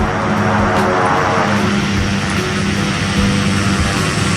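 Pilatus PC-12 turboprop rolling out after a near three-wheel touchdown in X-Plane 11, a loud, steady propeller and turbine roar with a droning hum that eases slightly as it slows, with no talking over it.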